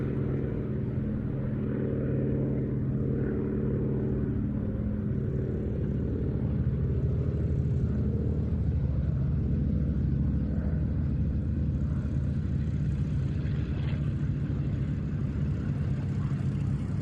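A Grumman F8F Bearcat propeller aircraft flying at an airshow at Duxford, a steady low droning engine rumble that stays fairly distant throughout.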